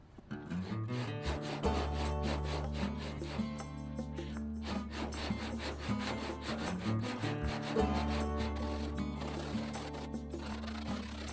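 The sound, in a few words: sanding body filler on F100 truck hood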